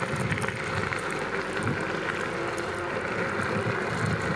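A JOYOR S10s dual-motor electric scooter rolling over cobblestones, giving a continuous rattling, buzzing roughness mixed with wind rush against the microphone.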